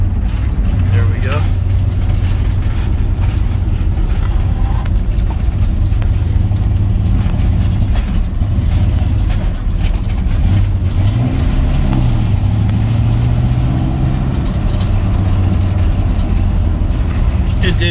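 A 1956 Chevrolet 3100 pickup truck is driving with a manual gearbox, its engine droning loud and steady throughout as it shifts into second gear, with a voice talking at times over the cabin noise.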